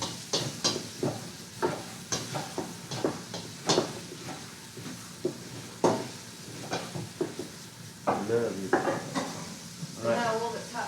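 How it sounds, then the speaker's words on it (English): Onions sweating in a frying pan with light sizzling, under repeated clinks and scrapes of a utensil stirring against the pan, close and irregular, without talk. "the onions are going to sweat in the pan until they're just a little bit softened"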